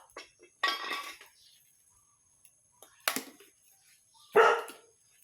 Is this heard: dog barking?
yes